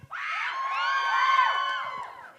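A live event crowd screaming and cheering in reply to the host, a bright, high chorus of shrieks and whoops rising quickly, holding for about two seconds, then fading.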